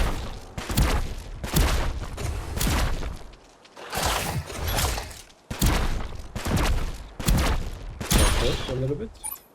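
A weapon ability fires in the video game Providence, a run of about six loud, booming blasts in uneven bursts with brief gaps between them.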